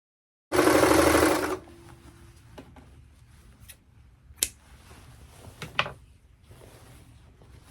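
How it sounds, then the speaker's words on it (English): A serger overlocks the fabric edges of a dress facing in one loud, steady whir lasting about a second, followed by quieter clicks and handling taps. "I'm going to serge all the way around the edges of the facing."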